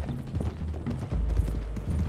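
Horses riding together in formation in Red Dead Redemption 2, steady clip-clop hoofbeats from several mounts rolling along a road, close and moderately loud, with a brief whinny-like tone and no talking.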